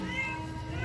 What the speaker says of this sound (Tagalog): Andito lahat ang mga pusa.